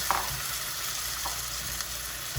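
Grated tomatoes fry in a paella pan with a steady, close sizzle and a few soft stirring clicks and scrapes, with no speech.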